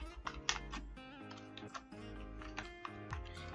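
Keys clack on a computer keyboard in short irregular bursts, close and clear, with a faint tonal background underneath.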